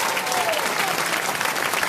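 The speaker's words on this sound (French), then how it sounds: "on l'applaudit" An audience at a French radio comedy show applauds steadily and fairly loudly for about two seconds, a dense even patter of clapping throughout.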